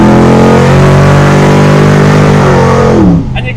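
A 1968 Camaro pro-street V8 is revved hard, with a loud, sustained rising engine howl that drops off sharply near the end, heard close and alone.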